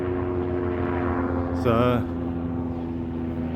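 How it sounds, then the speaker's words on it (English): A helicopter drones overhead during a countryside walk near Wareham, a steady tonal rotor hum with a distant low rumble, heard continuously under a brief spoken word. "Oh, helicopter up there somewhere, there you go."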